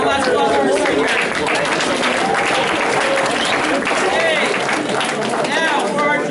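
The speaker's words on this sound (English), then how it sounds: "one last applause for our seniors" At a high school football awards banquet, a crowd gives the seniors dense, sustained applause that holds loud and steady throughout, with cheering and chatter from voices mixed in.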